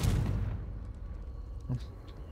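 A Confringo spell in Hogwarts Legacy goes off as a deep, booming blast at the start, with a rumbling tail that fades over a couple of seconds and a faint game chime.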